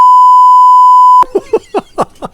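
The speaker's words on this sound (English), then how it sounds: "Since you just heard a beep" A steady electronic censor beep holds alone for just over a second before conversation abruptly resumes, several speakers talking quickly at close range.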